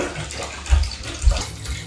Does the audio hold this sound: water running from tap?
yes